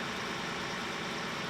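A tractor engine in the video game Farming Simulator 2013 runs at raised revs, a loud, steady mechanical drone heard close and alone for a brief moment.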